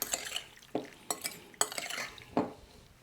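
A spoon scrapes and knocks around a bowl while brandy cherry cake ingredients with added brandy are mixed, giving four or five distinct close strokes with quiet gaps between and no talking.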